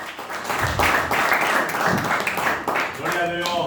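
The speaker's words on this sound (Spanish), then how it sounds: "regale una ofrenda de palmas al Señor" A church congregation breaks into loud, close clapping as an offering of praise, a thick burst of hands that swells and carries on while voices call out over it toward the end.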